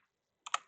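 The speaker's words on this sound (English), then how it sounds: "And you can type in that room number" A short room number typed on a computer keyboard, two or three quick soft key clicks close by after near silence.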